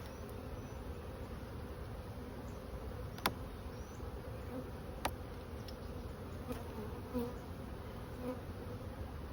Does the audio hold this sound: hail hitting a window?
no